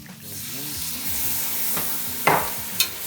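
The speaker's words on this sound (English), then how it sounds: "I like to give that a little saute as well. I think it's nice that the tomato paste gets a little cook in the bottom of the pot" Tomato paste sautéing and toasting in the bottom of a pot for a Bolognese sauce, a steady close sizzle with scraping stir strokes and a couple of sharper clanks near the end.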